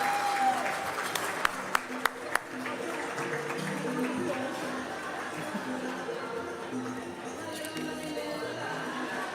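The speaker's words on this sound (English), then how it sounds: "Join me in giving her a round of applause before she welcomes our plenary guests." Applause at a leadership luncheon and plenary, a broad wash of clapping with a few sharp louder claps early on, continuing at moderate level while murmured room sound lingers underneath.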